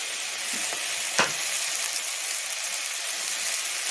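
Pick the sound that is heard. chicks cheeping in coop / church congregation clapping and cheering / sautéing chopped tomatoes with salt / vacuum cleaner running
sautéing chopped tomatoes with salt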